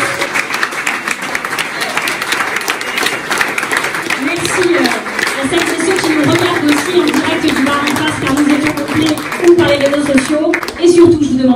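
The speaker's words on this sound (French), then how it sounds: "vous pouvez vous applaudir" Applause and cheering from a crowd at an indoor French ecology primary campaign rally in the Transformateur hall, steady and loud throughout with voices calling out above the clapping.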